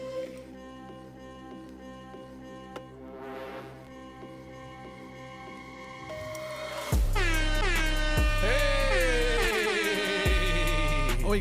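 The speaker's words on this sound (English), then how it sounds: "We got some positive air horns in the building." Air horn sound effect blasting loud and sustained, layered with blaring horn tones and a descending siren-like sweep, preceded by quieter musical tones.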